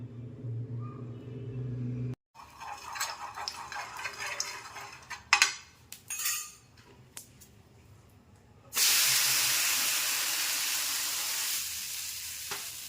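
A thalipeeth flatbread made with bottle gourd is placed on a hot pan and roasts. Soft crackles and brief clatters come first, then a loud, steady sizzle. Nobody speaks.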